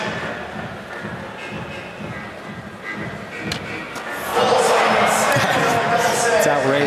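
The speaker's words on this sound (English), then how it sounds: "Crowd's making a lot of noise" A big crowd cheers at the 2025 SLS Paris men's knockout round, a street skateboarding contest. The roar builds over a steady murmur and swells much louder partway through, with a commentator talking over it.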